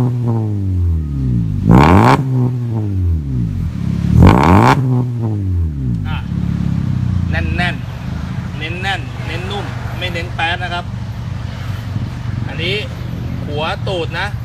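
A Honda Civic 1.8 fitted with a header and an AZC exhaust revs up twice in loud, sweeping bursts, then settles into a steady idle with a few lighter blips while people talk nearby.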